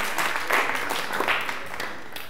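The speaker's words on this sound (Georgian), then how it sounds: "მოდით გავამხნევოთ ჩვენი მოთამაშეები აპლოდისმენტებით." An audience at a school quiz contest between two Georgian schools gives a short burst of dense, close applause that fades slightly toward the end.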